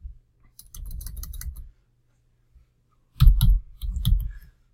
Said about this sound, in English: in here, I'm going to type in